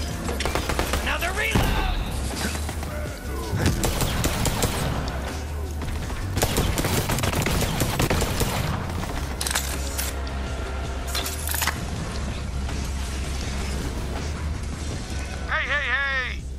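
Heavy, continuous gunfire in Borderlands 3, sustained automatic bursts and overlapping shots with metallic clinks and pops, loud throughout and mixed with game voices and talk.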